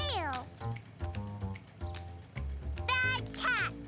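A cartoon cat meows and yowls repeatedly in short, rising and falling cries, loud and close, mixed with other busy sounds.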